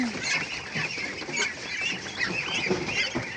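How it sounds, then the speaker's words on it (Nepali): Ducks gathering close by, a steady overlapping chorus of honking quacks that carries through the whole stretch with no talk. "हाँस चाहिँ छानिएर आइहाल्छ"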